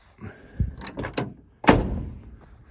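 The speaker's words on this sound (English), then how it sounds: "I'll close the door. You can see it closes nice and easy." The door of a 1969 Dodge Charger General Lee swings shut with a solid, close-up thunk, preceded by a few softer handling clunks and rattles. The slam rings out briefly before fading, with no one speaking.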